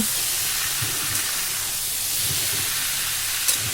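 Boiled vegetables dropped into a hot tempering of black cumin seeds and a split bay leaf in oil, giving a loud, steady steamy hiss and sizzle with a few soft bumps, no voices.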